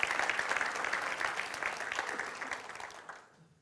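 Church congregation applauding together in a worship service, a dense steady wash of clapping that fades out near the end.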